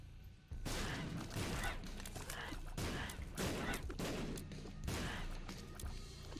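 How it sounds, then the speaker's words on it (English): Rapid, booming blasts from bombs in The Binding of Isaac video game, several dense explosions one after another at steady loudness across the whole stretch, with no talk over them. "I'm still just bombing for secret and top secret rooms."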